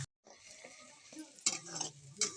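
Pointed gourd and eggplant fry in ghee with a soft sizzle, broken by a few stirring scrapes and light utensil clinks nearby.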